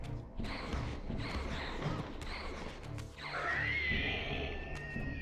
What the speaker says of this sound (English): He squealed like a pig.